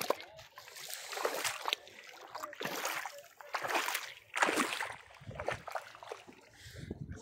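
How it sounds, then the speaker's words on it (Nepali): Water of the Koshi river splashes and sloshes in repeated surges, loud close-up bursts rising and falling over a steady rushing flow. "यो पानी हो कोशीको पानी"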